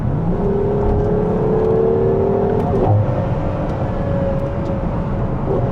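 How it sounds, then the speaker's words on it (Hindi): Ferrari 12 Cilindri V12 engine downshifting from eighth to fourth gear, a loud steady drone with rising rev blips and a whirring tone over road noise, heard from inside the car. "अभी मैं इसको डाउन शिफ्ट करता हूँ, हम 8 से 4th पर आ गए हैं"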